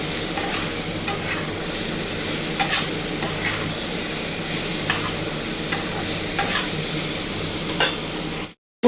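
Vegetables sizzle steadily as they fry in a pan, with a spoon scraping and stirring through them at irregular intervals; continuous close frying hiss with no talking.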